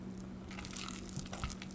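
Fishbowl slime packed with foam beads is squished and mixed by hand, producing close crunchy, crackling squelches that grow denser toward the end.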